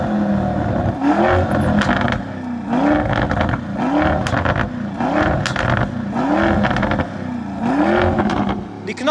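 A Lamborghini engine revs repeatedly with its exhaust valve open, loud and close, each sharp rising roar dropping away into crackling pops in a steady rhythm of about six bursts, while voices talk over it.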